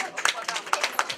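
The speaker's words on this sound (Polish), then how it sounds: "Ale chyba nie ma, no, ale wielkie brawa." Sparse clapping from a small audience at a prize-giving for a teddy bear exhibition in a library, a few distinct hand claps sounding close and uneven over a short moment.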